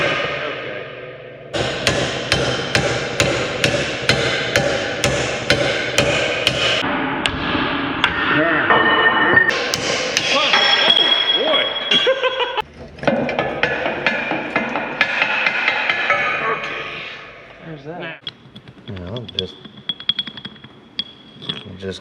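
A hammer repeatedly strikes a tiller to drive out a bushing, giving a fast, steady run of loud metallic blows, then scattered hits with a voice in between.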